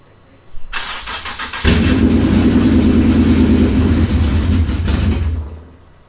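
A Nissan 350Z with a swapped VQ37 engine cranks briefly with rapid starter chatter, then catches and roars loudly into a steady run before easing off, up close.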